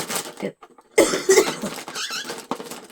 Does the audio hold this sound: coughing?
yes